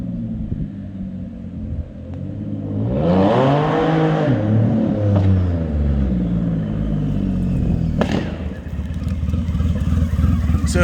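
A 150 hp Triumph Rocket touring motorcycle, a big heavy bike, revs hard with a deep rising and falling engine sweep mid-clip, then a sharp crack near the end over a steady close rumble.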